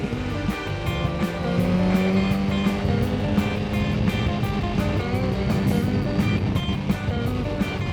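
A Suzuki GSX-R1000R superbike ridden along Tuen Mun Road, a Hong Kong highway, holds a steady, close engine drone with constant wind and road roar and no breaks.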